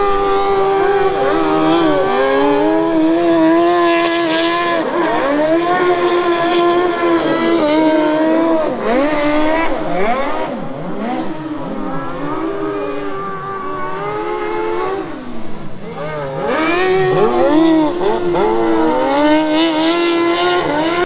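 Speedway sidecars and solo motorcycles race around the Gillman track in a loud, continuous engine roar, revs rising and falling as machines pass close, with no talk.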